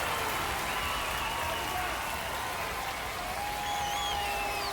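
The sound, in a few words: baseball crowd cheering after home run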